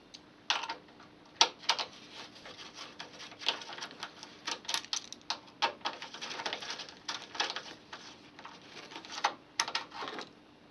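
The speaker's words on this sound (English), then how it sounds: "Undo these T30 Torx screws" Clicking and ratcheting of a tool undoing T30 Torx screws on a Mini front bumper, a quick irregular series of close, light metallic ticks.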